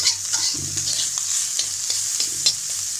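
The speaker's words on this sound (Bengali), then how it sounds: "আর যে পেঁয়াজটা রাখা আছে সাইডে, এখানে তেলের সাথে পেঁয়াজটাকে ভেজে নেব" Steady hiss of onion frying in oil in a pan, with soft scraping stirs and a few clicks of a spatula throughout, close and continuous with no talking.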